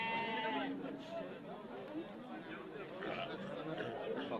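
Sheep bleat at an outdoor livestock market in Shovot, Khorezm, several calls rising over a busy background of people talking and crowd chatter.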